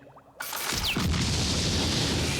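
A sudden loud boom bursts in after a brief quiet lead-in, with a whistling sweep, then a rumbling roar that sustains to the end.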